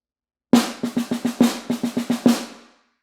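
A run of about ten evenly spaced snare drum sixteenth notes, crisp and close, played flat with no accents, then a short ringing decay.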